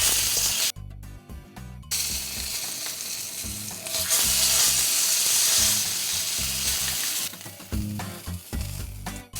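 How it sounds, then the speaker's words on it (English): Filet mignon sides sear in a hot pan, a loud, close, continuous sizzle broken by a few short clattering moments as the steak is turned, with the hiss rising again after each turn. "Now we're going to sear the sides as well for 30 seconds each"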